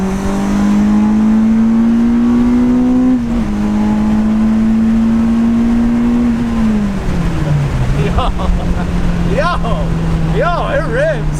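A Honda EP3 Civic Type R with a K-Pro engine management install accelerates hard, its engine drone rising steadily, dipping at a gear change, then easing off near the end with some faint tonal chirps, loud and close.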